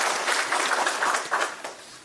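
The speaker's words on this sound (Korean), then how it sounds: "다시 한번 박수 부탁드리겠습니다." An audience at an information session applauds in a steady, moderately distant patter of clapping that softens toward the end.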